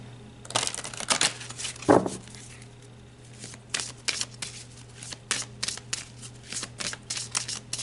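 Tarot cards being shuffled and drawn, with repeated crisp riffling and flicking bursts close by, separated by short quiet gaps and a few soft taps.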